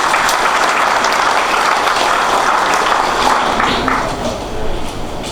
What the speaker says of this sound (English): Let's give Spectrum a round of applause.